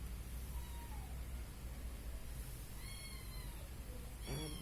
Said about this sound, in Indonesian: Aduh, meong,